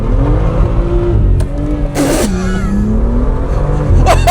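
A BMW M2 accelerates hard through quick gear shifts, its engine note rising, dropping briefly at each change and climbing again, loud and close.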